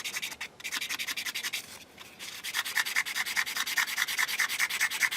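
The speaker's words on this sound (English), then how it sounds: "the idea now is to basically sand everything so that all the black disappears" Sanding a plastic part of a 1/32 scale T-800 endoskeleton model kit to make it level, with quick rhythmic back-and-forth scratchy strokes up close, pausing briefly once, then resuming faster and louder.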